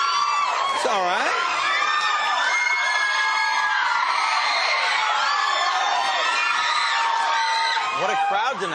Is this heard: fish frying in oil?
no